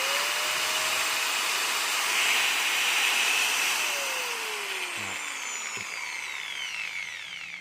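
Kress 760W 4-inch angle grinder running steadily with a high, constant whine and faint gear noise, its pitch sliding down near the end as it spins down.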